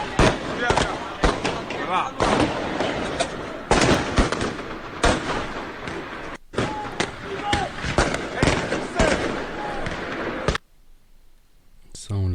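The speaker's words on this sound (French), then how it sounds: "Ouais, c'est impressionnant le nombre de feux d'artifice." Fireworks exploding during a riot night in Argenteuil, rapid repeated loud cracks and bangs over a continuous roar that cuts off abruptly near the end, leaving quiet faint sound.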